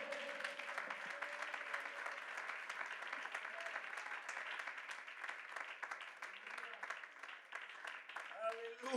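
A church congregation applauds together, a dense, sustained wash of clapping that holds steady from start to finish, with voices mixed in underneath.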